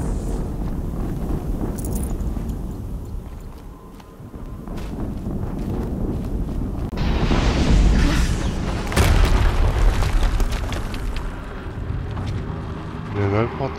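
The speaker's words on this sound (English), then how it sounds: "Explosion." Explosions and rumbling booms in the action game Horizon Zero Dawn, loud and continuous with heavy low-end surges around the middle and later bursts, layered over game ambience and wind-like noise, with a voice speaking at times.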